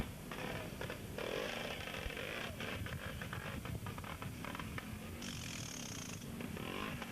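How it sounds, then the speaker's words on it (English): A two-stroke Francis Barnett trials motorcycle engine at a motorcycle trial, a continuous raspy buzzing drone with fluctuating revs and a rise in pitch near the end, fairly distant and steady throughout. "we've been listening to a noisy two-stroke waiting to come through"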